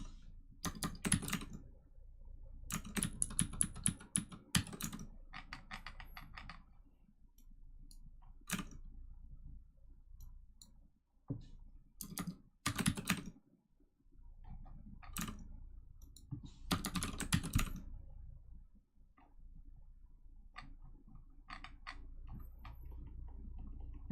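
Rapid typing on a computer keyboard, clicking keys in bursts with short pauses between, close and fairly quiet, no talk.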